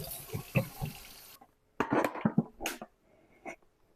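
Mushrooms being rinsed under a running kitchen tap: a short spell of flowing water, then it stops and uneven splashes and clatters follow in the sink, close by.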